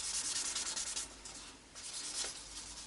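Abrasive scuffing on the glossy finish of a Tokai Strat guitar body, a soft, close, continuous rubbing hiss with gentle back-and-forth strokes.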